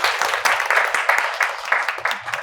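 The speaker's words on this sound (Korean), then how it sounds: "박수 좀" A small audience at an AWS tech trend session claps briefly, with scattered individual hand claps at a moderate level that taper off quickly.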